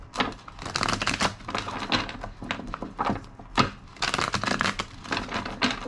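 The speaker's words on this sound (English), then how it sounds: "Two more shuffles." Tarot cards shuffled by hand in a steady run of quick papery riffles and soft slaps, close up and fairly loud, with no talking.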